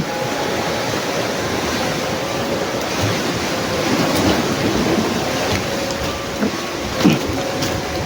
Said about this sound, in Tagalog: Nakaulan na